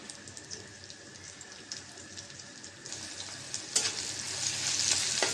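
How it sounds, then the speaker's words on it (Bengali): Onions and green chillies sizzle in hot oil in a kadai, a soft continuous crackling hiss that swells louder toward the end, with a few sharper spits and no talking. "পেঁয়াজ আর কাঁচামরিচ ভেজে নেব"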